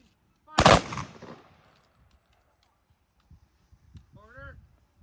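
A ceremonial firing squad's rifle volley on November 11 lands as one loud, abrupt crack that fades into a long, low echo, followed a few seconds later by a brief spoken command.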